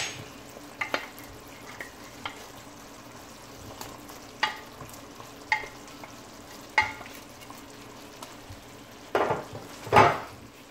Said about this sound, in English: Now I'm gonna add my shrimp.